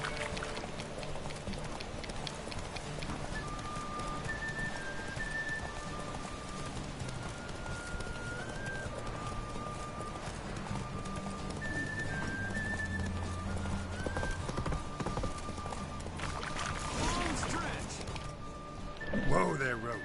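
Hooves clip-clop rhythmically as the horse Roach gallops in The Witcher 3: Wild Hunt, a continuous thudding gait under game music and character voices.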